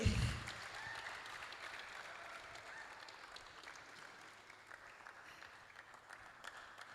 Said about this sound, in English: Please, let's not stop clapping